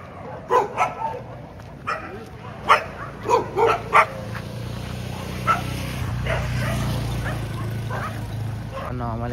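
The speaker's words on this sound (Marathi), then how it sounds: "जिकडे बघा तिकडे कुत्रे ओरडतात" Dogs bark repeatedly along a street, sharp yaps in uneven bursts, some close and some farther off, over a steady low hum of traffic and crowd noise.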